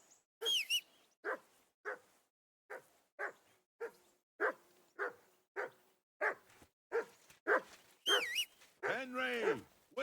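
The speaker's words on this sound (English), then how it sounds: "Jesus, Henry, that barking's driving me nuts." A dog barking in the medieval Bohemian setting of the game Kingdom Come: Deliverance 2, repeated sharp barks at a steady rhythm from a moderate distance, ending in a drawn-out howling whine, with a voice speaking over part of it.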